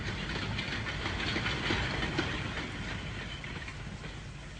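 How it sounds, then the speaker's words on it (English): A steady, loud rumbling rattle of a small train rolling along between Richmond and Broad Street, dense broadband noise with faint rhythmic clatter and no voices. "that little train, which rattles along between Richmond and Broad Street"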